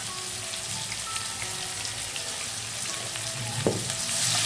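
Vermicelli sizzles and fries in a pan as spices (salt, crushed red chili, turmeric) are stirred through, a steady crackling hiss with a brief scrape of the spoon near the end, close and alone.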